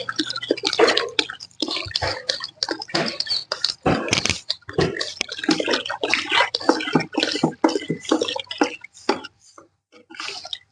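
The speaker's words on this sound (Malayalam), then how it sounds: "കലക്കിയ ചാണകത്തിലേക്ക് നമ്മൾ നമ്മളുടെ കയ്യിലുള്ള 1 ലിറ്റർ ഗോമൂത്രം കൂടി നല്ലതുപോലെ കലങ്ങുന്നതിന് ഒഴിച്ചു കൊടുക്കുന്നു." One litre of cow urine poured into a stirred cow dung mixture, giving close, uneven splashing and dripping bursts of liquid, fairly loud and continuous with brief gaps, no voices.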